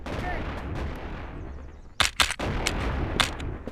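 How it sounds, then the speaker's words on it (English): Shotguns fire in the VR game Animal Company, a quick cluster of sharp, loud blasts after a stretch of faint background noise, followed by another isolated shot. "There's a bunch of people running around with a bunch of shotguns just killing each other."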